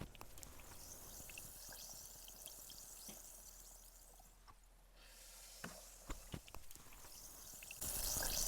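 Fizz balls from a toy unboxing dropped into water, giving soft splashes, drips and a faint fizzing hiss, with a few sharp plops near the end, quiet and close.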